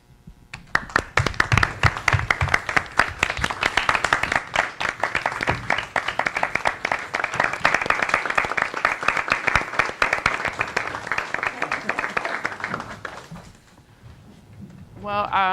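Sustained applause from the audience and board at a school district board meeting, many hands clapping loudly and steadily for about thirteen seconds before dying away, followed by a voice beginning to speak.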